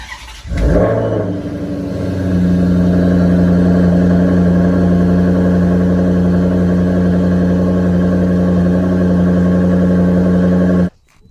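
A Maserati GranTurismo engine starts with a sharp bark, then settles into a loud, steady, deep idle that holds for several seconds before cutting off abruptly, heard close up with no talking.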